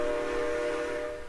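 A steam locomotive whistle in the Trainz train simulator sounds a single sustained, steady tone at close range with no voices, then fades slightly at the end.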